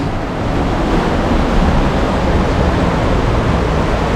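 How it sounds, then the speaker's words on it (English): River flowing below a hotel terrace in Sarajevo, a loud, steady broadband rush of water with no breaks, close and continuous throughout. "Look at the river."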